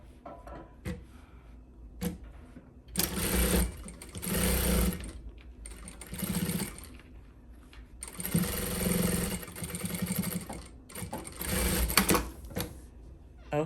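Sewing machine stitching fabric for a storage bin made from Dollar Tree materials, running in several close bursts of whirring and pausing between runs, with soft handling sounds in the gaps.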